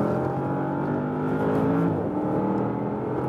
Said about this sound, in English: just a little last notch I'm pressing the throttle, how the car is really coming out even more than there.